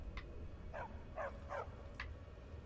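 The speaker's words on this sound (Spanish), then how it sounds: "El perro, no os preocupéis porque no puede morir" A dog in the video game Skyrim gives five short, quiet barks and yips in a loose, uneven series.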